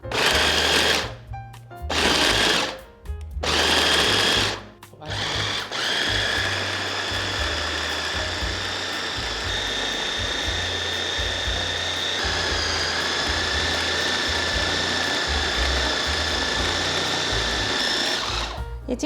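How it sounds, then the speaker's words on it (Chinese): A 400-watt blender pulses, then runs steadily at higher speed, pureeing lotus root and avocado into a smooth paste, a loud continuous motor whine after a few short bursts. "我先用顺转，让食材在瞬间切碎，再来选择2段，加快速度打成泥状"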